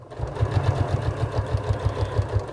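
A sewing machine runs steadily, stitching a fabric bag from its top edge toward the fold, with a close, even mechanical thrum and a rapid regular pulse of the needle throughout.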